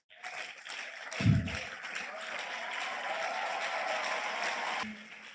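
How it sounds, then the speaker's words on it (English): Applause from a lecture audience at a university special lecture, a steady broad patter of many hands sustained for several seconds at moderate distance, with a louder thump near the start and the clapping cutting off abruptly near the end. "That thunderous round of applause is an indication that this man is already doing well."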